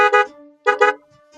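Pop-up horn on a Suzuki DA64W minivan sounds in two short double honks, loud and close, with brief quiet between them.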